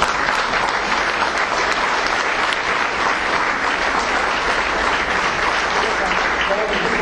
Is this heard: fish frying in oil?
no